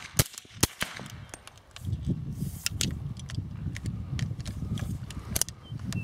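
Suppressed 300 Blackout short-barreled rifle firing subsonic rounds outdoors, a few sharp close shots early, then a busy stretch of faint mechanical clatter and handling noise with further scattered cracks.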